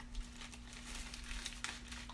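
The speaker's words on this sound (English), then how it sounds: "Plastic bag is always kind of handy." A plastic bag crinkles and rustles as it is handled while clearing out a makeup drawer, with soft, irregular crackles running steadily and quietly, no talking.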